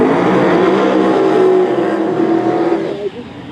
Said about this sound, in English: 716 for Robert in the right. Twin turbo Fox body Mustang.